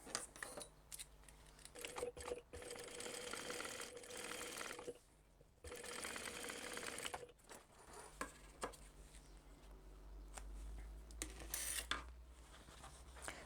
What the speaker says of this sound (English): So what we want to do now is put those right sides together and sew down there.